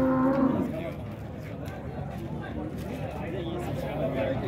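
Dairy cows low at a busy livestock market in Dois Riachos, Alagoas, with one clear moo near the start over a background of crowd murmur and someone speaking.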